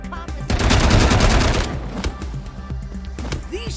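Gunfire in Wasteland 3 crackles in a loud, dense burst of shots, then thins into scattered shots and combat noise.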